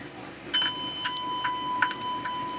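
A handmade wind ornament chime of small cups rings in several bright, sharp strikes with shimmering sustained tones, close and clear over quiet room hiss.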